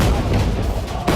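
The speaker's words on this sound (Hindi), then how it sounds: "बैक टू बैक बम धमाके हो रहे हैं।" Rapid, heavy booming blasts of bombs crowd together in a loud, rumbling burst, explosions going off back to back.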